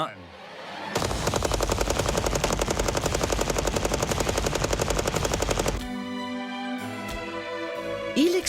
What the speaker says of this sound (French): Cette fois-ci, Jamie va tirer 200 balles avec la mitrailleuse posée sur son bipied.